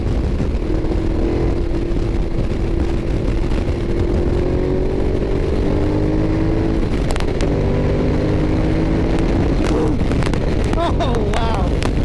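A 2012 Ducati Diavel motorcycle accelerating in fifth gear as the throttle is twisted: the engine's rising drone climbs in pitch under heavy wind rush, close and loud throughout.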